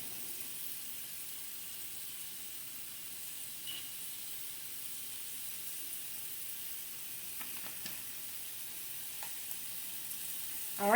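Smoked sausage and ground beef brown in a pan with Italian seasoning, giving a faint, steady sizzling hiss with a few soft stirring scrapes near the end.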